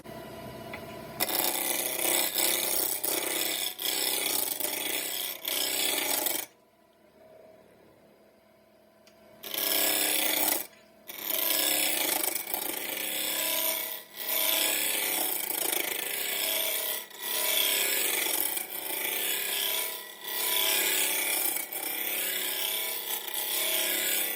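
Wood lathe spinning a mortar and pestle blank at around a thousand RPM, a steady near whir with gritty scraping broken by short pauses where the tool lifts off and one longer stretch of quiet.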